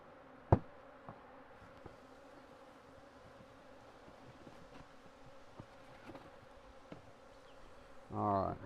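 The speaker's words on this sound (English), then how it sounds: "So see all those bees down in there?" Honey bees hum inside a beehive box, a soft steady drone close by, broken by a sharp knock early on and a brief rustle or clatter at the end.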